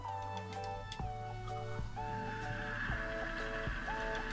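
A desktop PC system unit hums on power-up with a faint, steady drone and shifting whining tones that recur through the clip.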